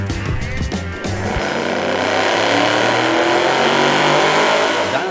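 Car engine on a dyno test, starting with lower rumbling then rising into a loud, sustained high-revving roar that holds steady near the machine.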